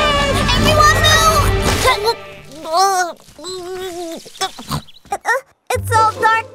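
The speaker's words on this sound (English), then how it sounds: "It's a wild pig." A cartoon wild pig squeals and grunts in a few rising, pitched bursts that stand out loud and near, with a burst of busy music or voices before and after.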